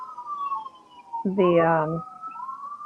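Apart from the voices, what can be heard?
emergency vehicle siren passing outside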